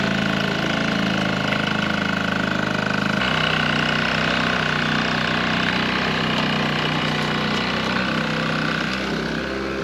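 A Quadzilla Buzz 50cc kids quad bike engine runs close by with a steady buzzing drone. It shifts slightly in pitch partway through, with no voices.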